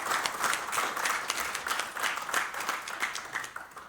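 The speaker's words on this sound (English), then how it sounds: "Oh, big round of applause for Nick, please." Modest applause from a small audience at a book launch for a legal text, fairly quiet and close, with uneven bursts of clapping pulsing over a few seconds.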